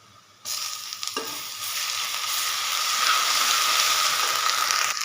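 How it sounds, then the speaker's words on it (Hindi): Garlic-ginger paste hits a pan of frying onions for chana masala, bursting into a loud, steady sizzle that keeps building, with occasional stirring scrapes and no talk. "प्याज हमारा ऑलमोस्ट फ्राई हो चुका है। अब मैं इसमें डालूंगी लहसुन अदरक का पेस्ट"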